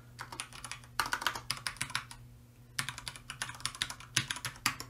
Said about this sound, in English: And you type in a password.